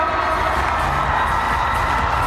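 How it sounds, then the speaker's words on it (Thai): A large crowd at a press event cheers and claps continuously, a dense steady roar of applause with whoops, fairly loud throughout. "ขอเสียงปรบมือดังๆด้วยครับ"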